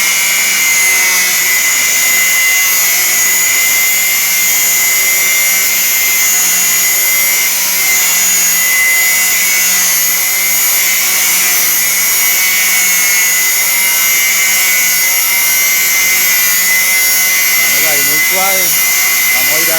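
An angle grinder with a cutting disc cuts metal pipe, making a loud, continuous, high-pitched whine with a rising squeal near the end. The sound runs steadily with no pauses.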